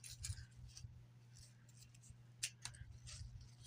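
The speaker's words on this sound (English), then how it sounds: "trimming these and getting the flower tops off" Scissors trimming flower stems while preparing flowers for pressing: a handful of quiet, crisp snips in an irregular rhythm, close up, with a low background hum between cuts.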